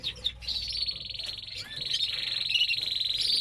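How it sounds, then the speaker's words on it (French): Large red lipochrome canaries, big-bodied show cage birds, chirp and trill in a steady, fairly close chorus of high tweets that grows slightly louder, with no talking. "Ça fait partie de mes plus gros oiseaux."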